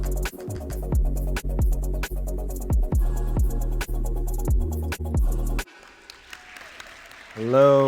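Applause sound effect opening a podcast intro, a steady wash of clapping under rhythmic percussive music hits for about five seconds, then a quieter tail before a voice begins talking.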